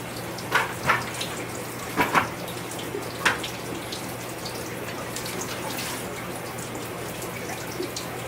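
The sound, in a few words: water leaking fast from a resealed 65 gallon aquarium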